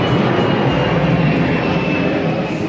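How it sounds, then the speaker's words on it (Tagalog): An airplane passes overhead near an airport in Chengdu, heard as a loud, steady broadband roar that holds throughout with no talk. "May dumaan pong aeroplano"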